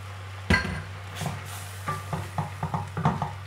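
Grilled pork stir-fried with curry paste, fish sauce and sugar in a pan for a pineapple curry, a spatula scraping and knocking against the metal in irregular clanks and scrapes over a steady low hum, close by.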